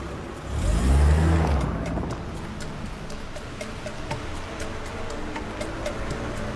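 An expensive car's engine rumbles loudly in a short surge, like a car pulling up or revving nearby, then settles into a steady low hum with faint ticking over it.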